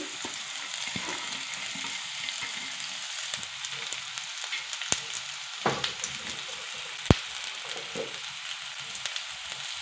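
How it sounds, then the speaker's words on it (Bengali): Carrots and cabbage fry with onions in a pan, producing a continuous soft sizzle with occasional sharper crackles and a couple of distinct pops, close and unbroken by talk. "একটু করে আমি ভেজে নেব গাজরগুলোও দিয়ে দিচ্ছি বাঁধাকপিগুলোও দিয়ে দিচ্ছি"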